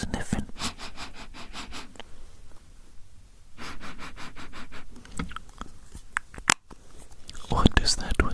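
Repeated close, soft nasal sniffs in quick rhythmic bursts during an ASMR cranial nerve exam roleplay, a whispering voice also present.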